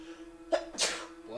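One sharp, close sneeze bursts out alone just past the midpoint, with a faint steady hum beneath and a brief vocal sound just before it.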